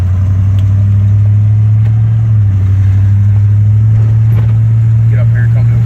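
The steady, loud drone of a 1951 Ford F1 pickup truck engine while driving, humming low and constant with a slight pitch shift partway through.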